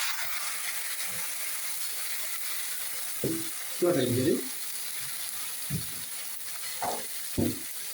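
Tomato frying in a pan for Italian polpette al sugo, a soft continuous sizzle broken by a few louder bursts of stirring and clatter, close by with no talk.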